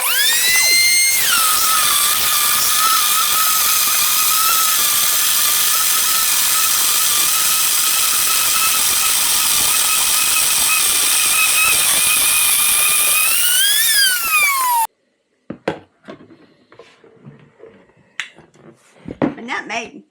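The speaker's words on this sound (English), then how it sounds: "she's going to grind her corn with it" Popcorn corn grinding in an electric grain mill makes a loud, steady high-pitched whine that runs for about fifteen seconds, rises briefly and winds down, followed by quiet handling clicks and brief talk.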